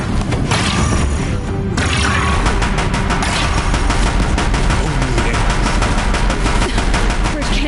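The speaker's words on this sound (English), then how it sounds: "If the Deathbringers keep firing," Deathbringer war machines firing on a bridge in the video game Horizon Zero Dawn, a loud, relentless barrage of rapid shots and booms that runs without pause from start to finish.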